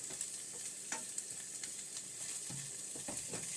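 Onions browning in a pan for caramelized onions and eggs, giving a steady soft sizzle with faint crackles and occasional stirring scrapes, close and fairly quiet.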